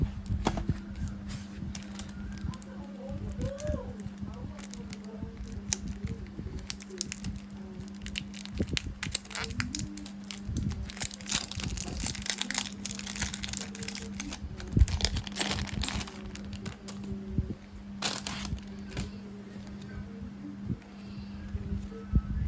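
Plastic wrapping torn and crinkled open on a Kurt Angle Raw Deal starter deck, with continuous close rustling, crackling and tearing over a steady low hum.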